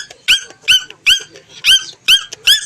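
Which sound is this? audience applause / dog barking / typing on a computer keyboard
dog barking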